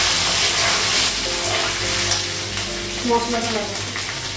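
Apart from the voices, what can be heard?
frying taro (kochu) in a pan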